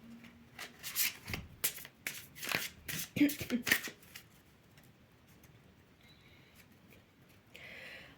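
Tarot cards shuffled by hand for a reading, with several quick riffling bursts close up, then quieter handling and brief rustles.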